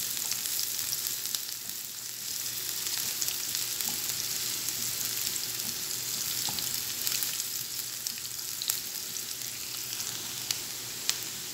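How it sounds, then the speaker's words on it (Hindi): Onions and chicken fry in a pan with a steady, dense sizzle that holds evenly throughout, broken by a few faint clicks of stirring, with no voices. "चिकन को फ्राई करने के लिए। थोड़ा इसे सॉफ्ट होने के लिए पकाऊंगी।"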